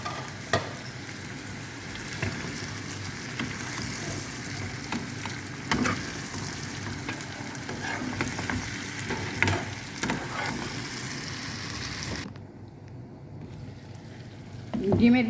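Egg masala fries in oil without water, a moderately loud, steady sizzle broken by repeated scraping stirs and clinks of a spatula, then it drops off sharply near the end before a final clatter.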